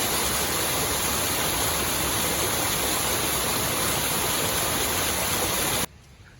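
Melincourt waterfall rushes in a loud, continuous broadband roar of falling water, heard close and alone, cutting off abruptly near the end.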